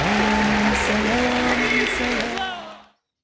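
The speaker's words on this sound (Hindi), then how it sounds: "आपकी भरपूर तालियों में अपनी सीट से उठकर डॉक्टर जाकिर नाइक साहब का इस्तकबाल कीजिए।" An audience applauds to welcome a speaker onto a stage at a lecture event, a loud, sustained clatter of clapping layered with voices that fades out after about three seconds.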